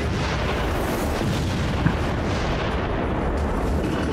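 Enemy gunfire in the Haze video game: a dense, continuous roar of shooting and blasts, loud and close, without a break for the whole stretch.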